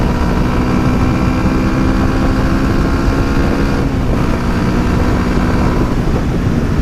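A Hyosung GD250R motorcycle engine drones steadily and loudly while riding, a continuous close rumble with wind noise and no pauses.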